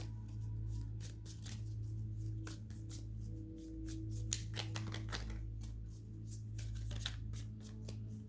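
Tarot cards being shuffled in quick bursts of crisp riffling and flicking, close and fairly quiet over a low steady hum.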